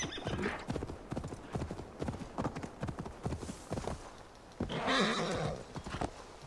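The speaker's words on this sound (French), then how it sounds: "je vous fais une petite session équestre à travers les bois et les choses environnantes" Horse galloping through woods in Assassin's Creed Valhalla, with steady rapid clip-clop hoofbeats throughout and a loud whinny near the end.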